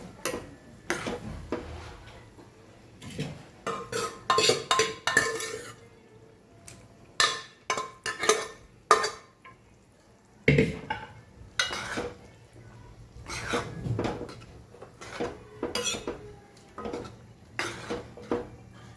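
Food being stirred and mixed in a metal cooking pot with a spoon, giving repeated scraping clanks and clinks in an uneven rhythm, close and fairly loud, with no speech.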